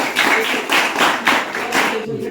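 At a village fort-building competition in Varad, an outdoor crowd claps for a teacher. The claps come in quick, rhythmic bursts, close and fairly loud, through the short stretch.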